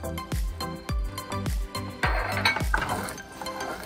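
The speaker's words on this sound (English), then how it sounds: "Let's stir this in" A spoon stirs fresh lemon zest into Cajun shrimp risotto in a pot, giving a series of close, distinct metallic clinks against the pan in an uneven rhythm, then a thicker scraping swirl of the creamy rice.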